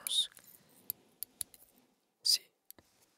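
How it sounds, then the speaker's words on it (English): Metal clamp scissors are snipped and clicked right at the microphone, giving a few crisp metallic snaps and sharp clicks between soft whispered speech. "It's a clamp. Clamp scissors."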